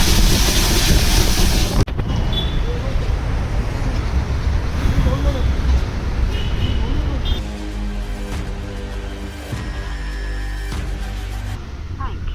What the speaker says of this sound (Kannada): ಮೋಟ್ರ್ ಆನ್ ಮಾಡಿದ್ದೇನೆ